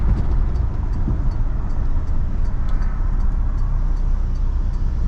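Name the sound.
1963 AMC Rambler 330 Wagon driving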